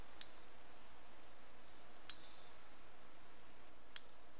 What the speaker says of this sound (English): And I'm just going to snip some threads between